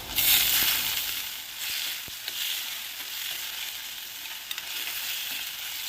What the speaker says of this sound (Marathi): इथं मी दीड टोमॅटो कापून घेतलेला आहे तो या फोडणीमध्ये घालून घेत आहे